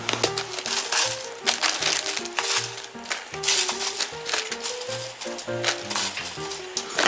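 A plastic zipper bag handled with dried shiitake mushrooms gives off repeated crinkling and rustling bursts with small clinks, close by, over a steady tonal background.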